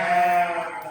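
A single sheep on a farm gives one loud, close, wavering bleat that lasts about a second and fades out at the end.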